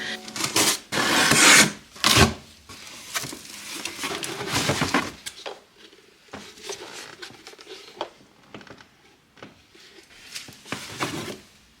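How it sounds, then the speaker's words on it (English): A hand sander hooked up to a shop vac works over an old wood floor. Rough, raspy scraping comes in uneven bursts, loud at first and then softer and intermittent, with short pauses between passes. "I could hook my hand sander up to a shop vac"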